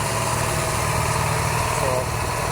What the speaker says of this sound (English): we can start the bike. Just flip this a few times. Give it full choke.